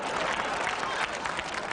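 An audience at a college show claps for Randy of the Redwoods, a brief burst of thick, continuous applause from a crowd, fairly loud and even from start to finish.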